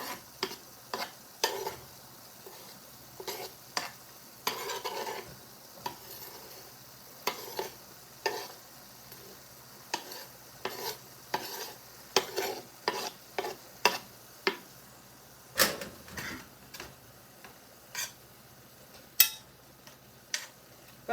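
Utensil scraping and tapping in a pan as fresh scallion, garlic and green onion are stirred into beef meat pie filling, irregular close clinks and scrapes repeating throughout over a faint background.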